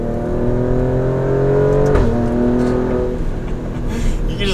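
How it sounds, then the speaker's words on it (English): A 2018 Alfa Romeo Stelvio Quadrifoglio SUV engine revs and accelerates loudly, its pitch climbing then dropping as it shifts, with a steady drone of road noise. "We'll do a bit of an acceleration."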